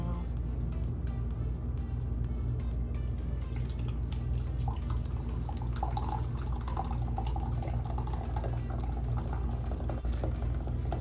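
Herbal tea with laurel leaves, chamomile and anise pours from a press pot, a continuous trickling splash over a low steady hum, near and moderately loud.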